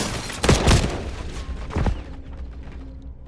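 Gunfire in Call of Duty Warzone Resurgence mode: a couple of close, loud bursts of shots followed by another sharp report, then fading to quiet with a faint lingering tone.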